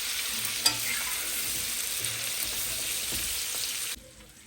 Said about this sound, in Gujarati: પોચા હાથે જરૂર હલાવવાનું છે.